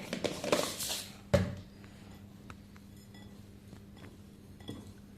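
Peeled pomelo being mixed with salt and sugar in a bowl, with a few clinks and scrapes of a utensil against the dish, including one sharp knock, then quieter faint handling.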